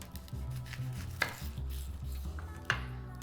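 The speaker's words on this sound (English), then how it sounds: "cut an onion." An onion is chopped on a cutting board for a Mediterranean orzo salad: two sharp, well-spaced knife knocks over a steady low kitchen hum, with no talking.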